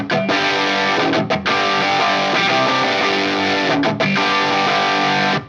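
Electric guitar through combined overdrive and distortion pedals plays heavily distorted sustained chords loudly and continuously, with a couple of brief breaks between strummed phrases.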